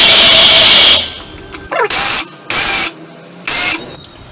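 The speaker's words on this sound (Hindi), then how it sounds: "ये देखिए काजू ग्राइंड हो गया है।" Cashews ground in a mixer grinder: one loud sustained whirring run, then three short, sharp pulses of the motor separated by brief pauses.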